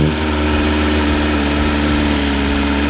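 A 2025 BMW M 1000 R motorcycle engine runs close up, a loud, steady, throbbing drone with a faint rise in pitch near the end and no talking over it.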